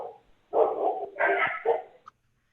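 A dog barks during a virtual town board meeting, giving a few close, muffled barks and yips in a short cluster over a quiet call line.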